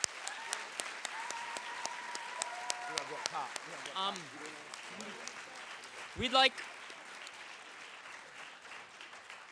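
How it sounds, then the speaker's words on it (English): Lecture hall audience applauding at the end of a memorial lecture, sustained steady clapping throughout while someone speaks briefly over it and a couple of louder cheers break through. "Can we give them another round of applause, please?"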